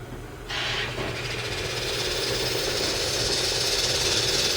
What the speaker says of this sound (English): Full steam at 32 psi, and it is governing.